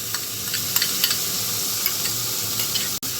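Chopped green chillies fry in hot oil alongside onion and garlic, a bright steady sizzle up close with occasional light spoon taps and stirring scrapes against the pan, no speech, and a short dropout near the end.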